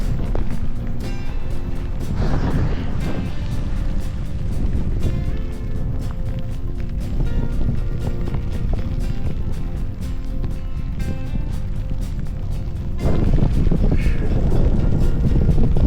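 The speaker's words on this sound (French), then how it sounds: "je m'en vais dans la tempête. Dans le gros vent de face." Strong, steady wind roars across the microphone with a constant broadband rush, swelling louder near the end; no voices.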